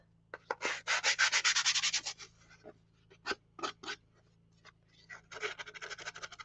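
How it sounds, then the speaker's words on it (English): An emery board scuffs the surface of a wooden barn shelf in quick rhythmic bursts of dry scratchy rubbing, close and fairly quiet, with a steady low hum underneath. "And you can go over the middle here and scuff it up."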